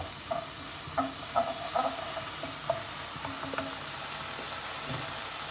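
Vegetables stir-fried in a pan with a little honey sizzle steadily, broken by repeated light clacks and scrapes of a spatula tossing them, with no talking.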